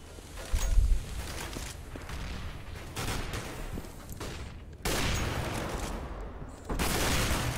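Counter-Strike match gunfire: fairly quiet bursts and scattered shots crackle from a distance, growing louder and denser in the second half, with no talk over them.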